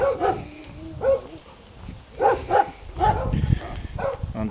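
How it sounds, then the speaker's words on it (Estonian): Several dogs in a village on Tenerife bark in short bursts, some near and some farther off, with yips and whimpering between barks and a faint background hum. "Koerad auguvad igal pool kogu aeg."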